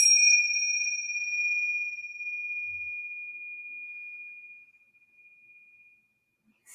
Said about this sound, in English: And we will ring the bells